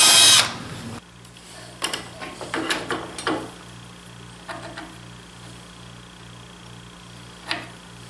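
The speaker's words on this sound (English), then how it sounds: "So I'm gonna drill through holes here and countersunk holes on the bottom." Power drill boring through-holes in wood for a crosscut sled fence, a loud burst at the start followed by several short, uneven drilling bursts over a steady low hum, with long quiet gaps between them.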